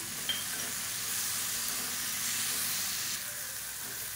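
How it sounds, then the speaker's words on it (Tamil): Tomatoes, onions and roasted peanuts sauté in a pan, giving a continuous soft sizzling hiss that stays even and close, with no talking. "இப்போ இதையும் சேர்த்து நல்லா வதக்கிக்கலாம்"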